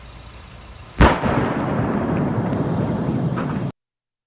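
A single sharp gunshot cracks during a police special operation shootout in a residential district of Ufa, followed by a sustained rumbling, noisy roar that cuts off abruptly.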